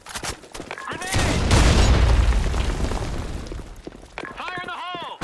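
A grenade blast in the online shooter BlackShot, a heavy boom with a rumbling roar that swells and fades over a few seconds, preceded and followed by game voice callouts.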